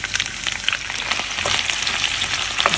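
Mushrooms hit a hot pan of frying potatoes, giving a loud, steady hiss and crackle of sizzling oil with small pops throughout.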